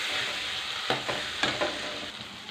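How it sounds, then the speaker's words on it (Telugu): Chicken with a ground paste, cumin and turmeric frying in a pan for a coconut chicken curry, a steady close sizzle broken by a few soft stirring scrapes, with no voices. "కొద్దిగా వేగాలండి"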